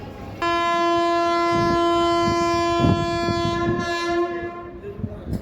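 Koyna Express 11030 departing Karad railway station platform, its loud horn sounding a long sustained blast over rumbling carriages, with clatter rising as the train pulls away.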